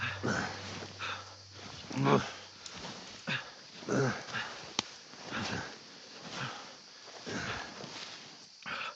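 Mutt the dog in Kingdom Come: Deliverance 2, with soft sniffing, whimpering and shuffling movement in short bursts under ongoing speech.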